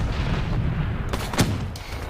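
Deep booming blasts in Black Ops 3, a low rumbling background broken by a few sharp, close explosive hits in quick succession.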